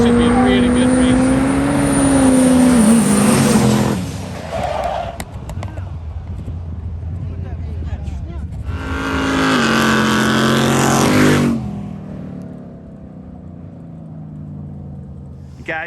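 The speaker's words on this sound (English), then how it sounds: "here we got Kyle coming up in his GMC Sierra 1500 with a big turbo on it, nitrous there, against that pretty stout Duramax over there" Drag race between a big-turbo, nitrous-fed GMC Sierra 1500 pickup and a stout Duramax truck at a weekend drag strip: two loud bursts of engine roar and acceleration, separated by a quieter lull with crowd noise.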